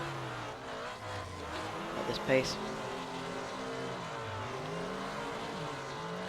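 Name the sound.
race cars drifting in Assetto Corsa video game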